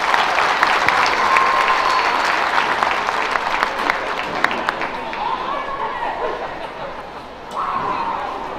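Loud, sustained clapping from the audience at a county youth fair livestock show as exhibitors leave the ring, with crowd chatter and a voice over the applause, thinning slightly before swelling again near the end.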